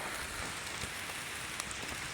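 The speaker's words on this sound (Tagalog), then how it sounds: "Lakas ng ulan, Hunter." Steady heavy rain hisses across the whole clip, dense and close, with scattered louder drops striking a nearby surface.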